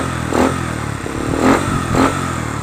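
A Bajaj CT 100 motorcycle engine idling close by after a battery repair, a steady mid-pitched chug with a few brief surges in revs.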